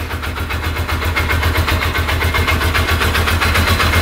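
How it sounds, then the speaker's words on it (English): A cheap UTV's engine idles with a steady, rhythmic low chugging, loud and close throughout with no talk over it. "All right, we're gonna quick start it up."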